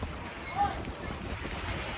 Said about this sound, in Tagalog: Grabing alon yan oh.